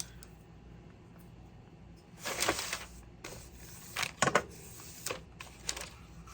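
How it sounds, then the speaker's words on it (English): Scissors snip through basket material in a few short, crisp cuts, close and fairly quiet, with brief pauses between the bursts of cutting. "I'm gonna cut this off"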